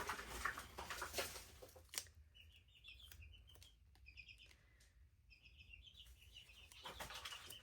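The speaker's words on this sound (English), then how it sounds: "The chickens are really vocal this morning" Chickens cluck and call in the background on a morning, faint and somewhat distant, with repeated short chirpy notes and light rustling, and no one speaking.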